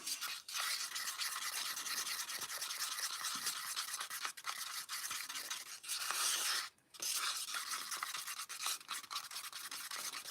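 Resin for a bream glidebait is stirred and mixed in a container, giving continuous close scraping and rubbing strokes with short pauses between them.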